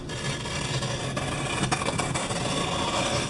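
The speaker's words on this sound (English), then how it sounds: "believe it or not, I'm opening another box" A box containing an all-metal multi-tool shovel is opened with continuous close rubbing and scraping of cardboard and packaging, dense and steady with a few crisp rustles.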